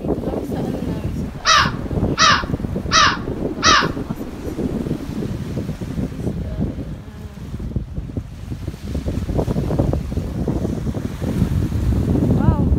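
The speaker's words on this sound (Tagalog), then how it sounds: "grabe yung ibon dito. Ang lalaki. Yung ibon sa dagat." Four loud harsh caws from large sea birds on an island shore ring out in quick succession early on, over a steady rush of wind and surf that continues afterward.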